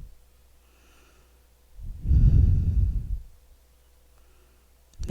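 A single slow, audible breath in and out during a seated chair yoga class, rising around the second second and fading by the third, close and fairly loud against a quiet room.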